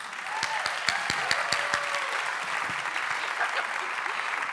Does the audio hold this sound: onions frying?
no